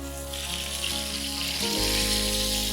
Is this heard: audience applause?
no